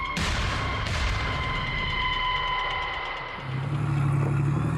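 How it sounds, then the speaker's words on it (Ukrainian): Heavy booming tank gunfire echoes over a continuous low tank diesel engine rumble at a firing range in Great Britain, the rumble deepening and growing louder toward the end. "Гуркіт дизеля і звук пострілів."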